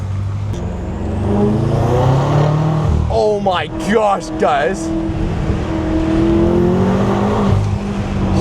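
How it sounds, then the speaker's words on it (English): A modified, high-powered BMW M5 revs hard and accelerates with a loud exhaust and intake roar from inside the car, a steady drone that rises in pitch across several gear changes as a man exclaims over it. "I can't get over the fact how good the exhaust sounds, how good the intake sounds"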